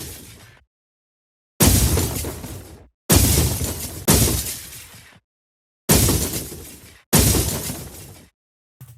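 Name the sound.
debris sound effect made with granular synthesis in Phaseplant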